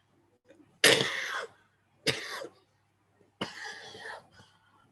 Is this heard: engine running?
no